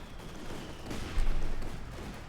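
Quick bursts of small-arms gunfire crackle from a World War II battle in Company of Heroes 2, with a louder thump of shots and a busy rattle of fire at moderate distance.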